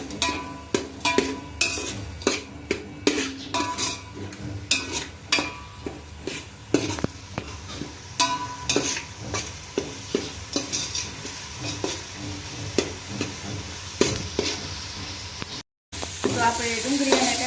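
Tomatoes and onions cooking in a pan for Kathiyawadi bateka pauva, with constant sizzling and frequent metal spoon clatters against the pan, close and busy, with a brief dropout near the end and no talk.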